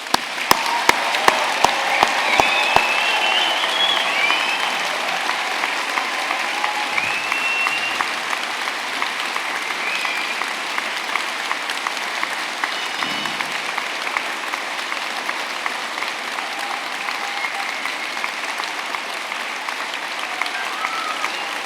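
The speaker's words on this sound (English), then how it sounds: "So let's give them one more huge celebratory clap." Sustained celebratory applause from an audience at a university degree ceremony in Newport, honouring graduates; dense, steady clapping fills the hall throughout, with a few sharp individual claps standing out at the start.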